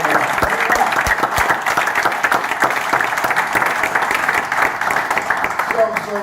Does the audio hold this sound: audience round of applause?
yes